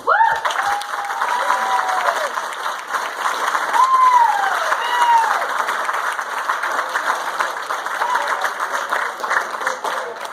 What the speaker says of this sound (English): if we could get a round of applause for Mom and Dad